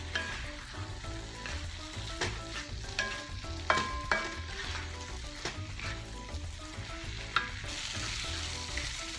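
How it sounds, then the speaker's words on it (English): Rice stir-fries over raised heat in a pan, a dense continuous sizzle broken by repeated scraping stirs, close and alone. "I'm going to raise the heat and just fry up the rice a little bit"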